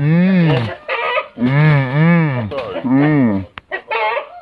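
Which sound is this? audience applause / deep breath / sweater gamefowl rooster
sweater gamefowl rooster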